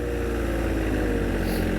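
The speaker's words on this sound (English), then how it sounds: "Very good sounding tractor." A 2022 John Deere 1025R compact utility tractor with backhoe runs at a steady idle, a close, continuous low diesel rumble with a faint rise near the end and no talking.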